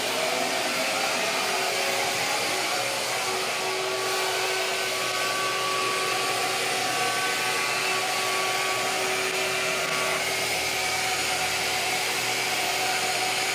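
CNC machine cutting a tenon out of wood, a steady high whining drone of spindle and dust extraction that stays loud and unbroken throughout.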